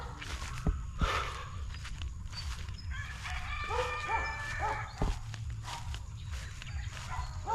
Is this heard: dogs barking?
yes